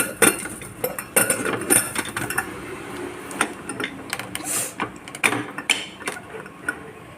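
Close metallic clinks, clicks and scrapes as a pressure cooker lid is fitted and closed onto a pot of boiling tomato rice, in quick irregular bursts.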